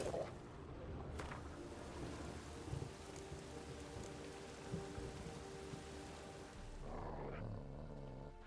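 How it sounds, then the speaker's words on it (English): A rainstorm with thunder in the video game The Witcher 3: steady rain hiss fills the scene, with low thunder rumbles swelling and fading, no talking. "A storm, damn"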